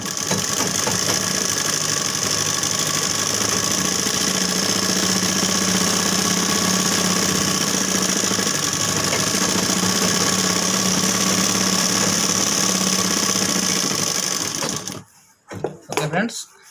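Sewing machine double-stitching the sleeves of a jacket, a fast steady whirring stitch running loud and close for about fifteen seconds before stopping, followed by brief clatter.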